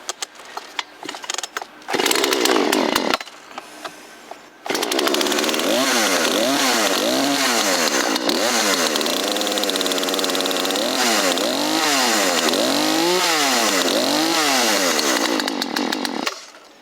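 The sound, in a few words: petrol chainsaw starting and running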